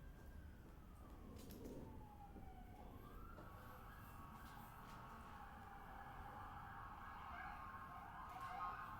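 Faint emergency sirens wail in the distance, a long falling-then-rising tone persisting under steady background noise.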